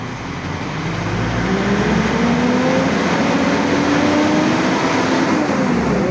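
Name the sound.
Mitsubishi Triton pickup engine revved to 3000 RPM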